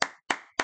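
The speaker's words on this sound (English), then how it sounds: "I gotta clap it up, man." Three sharp, close hand claps in a steady rhythm, each crisp and evenly spaced with brief silence between.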